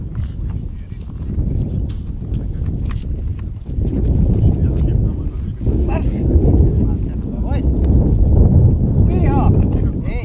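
Strong wind buffets the microphone at an outdoor shooting range with a Mauser M48 rifle, gusting roar and rumble swelling through the clip while people talk underneath.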